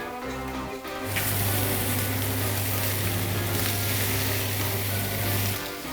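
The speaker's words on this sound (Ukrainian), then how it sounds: "А поки смажиться курка" Chicken drumsticks fry in a hot pan, a loud, steady sizzle that bursts in after a second and holds evenly for several seconds, then cuts off near the end.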